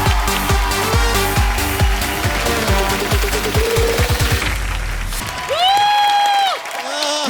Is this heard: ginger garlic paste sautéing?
no